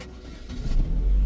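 A Chevrolet Cruze 1.8 engine started with the push button, a brief crank that catches into a low, building rumble close by.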